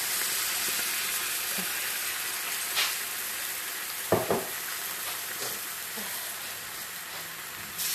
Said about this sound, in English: I'm gonna add some coconut milk in there.